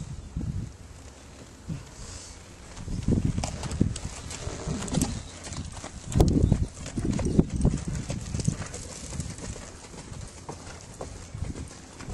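Hooves clip-clop at a steady walking pace on a hard surface, close by, with the rhythm growing louder partway through.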